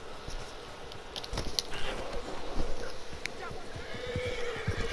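Horse whinnies and clip-clopping hooves in the video game Red Dead Redemption 2, steady and fairly close, mixed with game ambience and a person talking over it.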